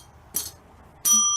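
A bell is struck twice during a live talk show, with a short bright ding followed by a longer sustained ring, close and clear over quiet room noise.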